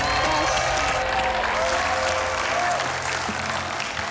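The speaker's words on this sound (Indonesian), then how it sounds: "Tepuk tangan untuk Fanny teman-teman" A studio audience at The Voice Kids Indonesia blind auditions breaks into loud, sustained applause, a dense wash of clapping with crowd noise that fills the whole stretch and fades only slightly at the end.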